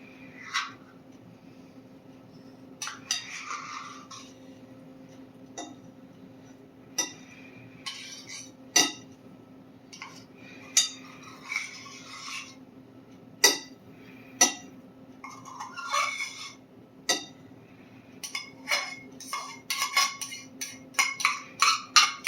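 Cold butter being blended into pie crust dough, heard as sparse sharp clinks and scraping taps of a utensil against a bowl that quicken toward the end, with no voices.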